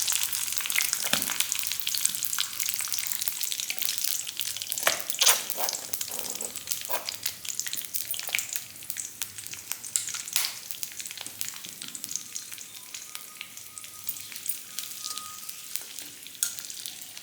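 Leaves sizzle and crackle in hot hair oil in a pan, a continuous close frying hiss with scattered sharp pops and occasional stirring sounds.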